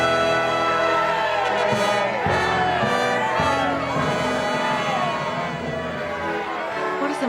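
A crowd cheers and calls out blessings on the king in a continuous loud wash of voices with shouts rising over it, amid a period court setting.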